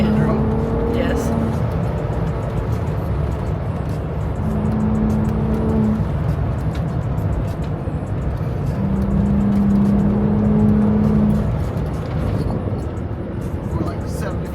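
Several Ford Bronco Raptor trucks run fast one after another on a desert trail near Moab, a steady loud engine roar with rising passes, while people talk over it.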